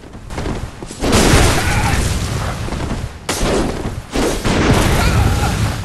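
Heavy blasts from an enemy's rifle spear in Bloodborne's Lecture Building, loud booming shots in bursts with brief gaps, close and dominant over the game's ambience.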